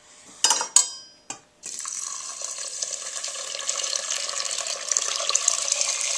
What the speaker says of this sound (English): And then we need to add 6 cups of liquid.